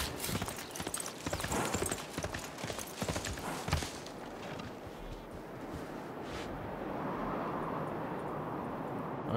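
A horse archer unit's galloping hooves clatter rapidly in Civilization 6, a loud, dense clip-clop that fades after a few seconds into a soft, steady ambient wash.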